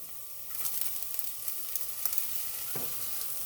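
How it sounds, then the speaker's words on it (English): Onions sauté in oil in a pan for Filipino-style picadillo, giving a steady close sizzle with a few light stirring scrapes and clinks. "I'm going to go ahead and add my onions in and saute them"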